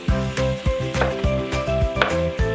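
Biya fish frying in a pan, a close sizzle broken by repeated rhythmic scraping or stirring strikes about every half second, with a faint tonal hum underneath.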